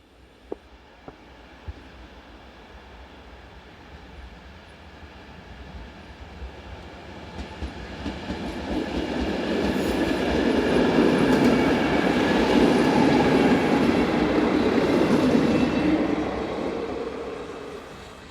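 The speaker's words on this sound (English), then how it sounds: "This is the station at Valtice, as a diesel multiple unit arrives with a service for Břeclav." A diesel multiple unit pulls into Valtice station on a service for Břeclav, its engine rumble and rolling wheels growing steadily louder as it nears and then easing slightly, with no voices.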